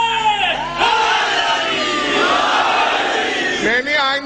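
A large crowd at a religious gathering shouts a religious slogan in unison, a loud, sustained chorus of voices that swells and falls twice.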